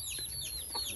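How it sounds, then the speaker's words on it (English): Baby chicks peeping in a pen, a steady stream of high, thin descending chirps overlapping close by, with a low background hum and faint room noise. "Got the baby chicks"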